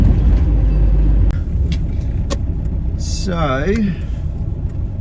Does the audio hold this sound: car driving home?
yes